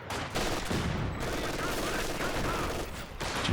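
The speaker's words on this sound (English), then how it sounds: "Sounds like just the regular mortar though," A regular mortar firing during a Company of Heroes 2 match, heard amid continuous dense, loud battle noise with overlapping gunfire and explosions and no clear gaps.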